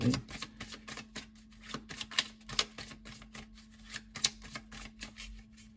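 Tarot-style cards being handled and drawn for a card reading: steady close shuffling and flicking of cards with light rapid rustles, a faint hum running underneath, no talk.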